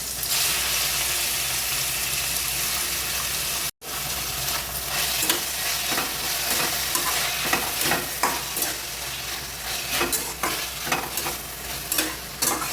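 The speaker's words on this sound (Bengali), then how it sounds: "টমেটো কাঁচা লঙ্কা মিনিট 5 সিমে দিয়ে ভেজে নিয়ে এর ভেতরে আমি চিংড়ি মাছটাকে দিয়ে দিচ্ছি" Prawns frying in a pan with tomato and green chili, a steady loud sizzle with repeated scraping stir strokes and clinks, briefly cut off near the start, with no voices.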